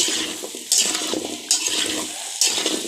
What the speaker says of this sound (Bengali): ভালো করে তেলটার সাথে মাখিয়ে নিচ্ছি